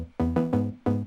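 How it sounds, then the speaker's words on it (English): A simple saw pluck synth patch from Serum plays three bright, harmonic-rich plucked notes in a loose rhythm, each with a sharp attack and short decay, clear and alone. "It's a really simple saw pluck."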